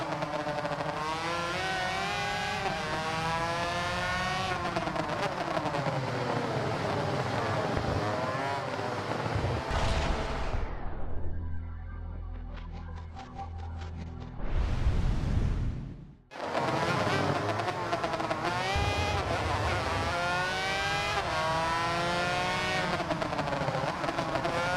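Engines of racing motorbikes in the arcade-style game Ride 2, loud revving and shifting pitch as bikes accelerate and brake through a race, with a brief dip to quieter idle before the roar resumes.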